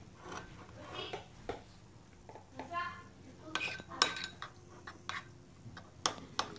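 Yeast is mixed with sugar and a little warm water in a bowl for olive and onion-cheese bread dough, producing scattered, close utensil clinks and taps against the bowl with quiet gaps between them.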